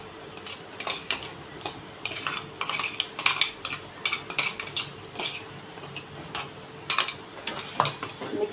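Ground masala paste being stirred into black-eyed peas in a steel pot, with repeated clinks and scrapes of a spoon against the metal, close and moderately loud, in irregular bursts with no voices.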